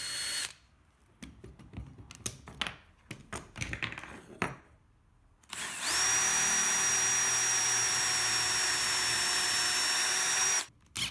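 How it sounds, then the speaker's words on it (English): A power drill stops and starts in short bursts, then runs steadily at high speed for several seconds before cutting off. "mark and drill the pilot holes in the sliding jaw for the retainer"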